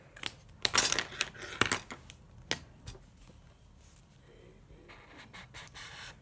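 Highlighter marker dragged over a line on a sheet of paper, with a few quick scratchy strokes loud at first, then softer, fainter rubbing.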